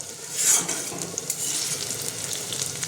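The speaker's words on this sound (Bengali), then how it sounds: "এটা আমি এবার লাল লাল করে ভেজে তুলে নেব" Fritters made with fish fat sizzle and crackle steadily in hot oil, with a louder hissing burst near the start and no voices.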